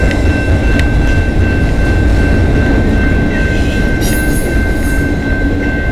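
A freight train led by an SD75I locomotive passes close by in London, Ontario, with a loud, steady rumble of wheels and cars and a thin wheel squeal running throughout.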